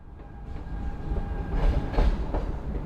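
A train travelling on rails toward Lancaster, a steady broadband rumble with faint rhythmic clatter, alone and fairly close, with no talk.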